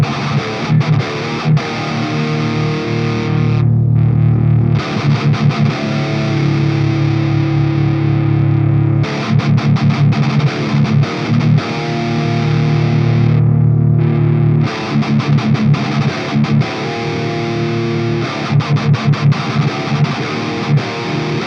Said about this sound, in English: Let's compare the booster and the tube screamer real quick.